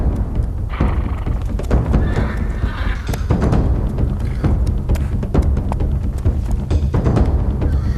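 Horses neigh and whinny at a horseback archery training school in Kamakura, Japan, with hooves clip-clopping and thudding throughout in a busy, fairly loud outdoor scene.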